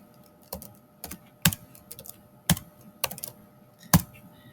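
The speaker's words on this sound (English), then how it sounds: "if I'm typing something and I want to get down to the next line, I click on Enter" Keys click on a Chromebook keyboard in a sparse, quiet run of separate taps, with a few firmer strikes like the Enter key being pressed.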